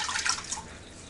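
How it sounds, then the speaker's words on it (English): Cold water poured into a kitchen pot: a brief splashing trickle in the first half that quickly thins to faint dripping, fairly quiet and close. "And then add 1 cup of cold water."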